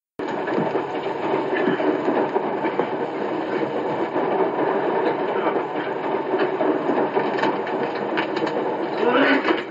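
Train carrying convicts in the 1962 film Birdman of Alcatraz: a steady, loud rumble of railroad cars with faint clickety-clack running throughout, no break.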